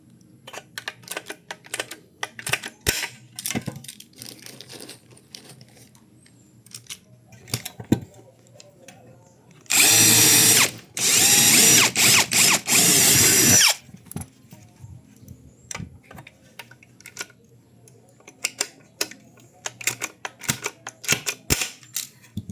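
A power drill bores holes into an aluminium window panel frame for rivets, with one loud sustained whine lasting a few seconds in the middle, surrounded by scattered clicks, taps and handling noises of workshop assembly.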